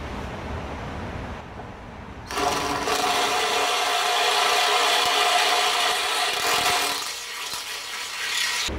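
A power drill runs a 3/8 inch bit through a hole in a Civic bumper, giving a loud, steady, gritty whir for several seconds after a quieter start.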